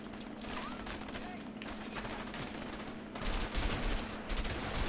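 Shotgun gunfire in the video game A Way Out rattles in dense, overlapping bursts throughout a shootout, growing louder toward the end, with speech mixed in.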